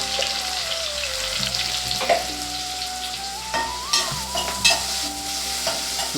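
Sliced onions frying in a pan for an egg dish, a dense steady sizzle with spatula stirring knocks scattered through, close and even, no voices.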